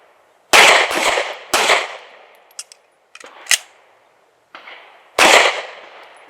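Gunfire rings out at an outdoor shooting range during a timed drill, several sharp, loud reports, some in quick pairs, with fainter distant shots and metallic clinks between them and no talking.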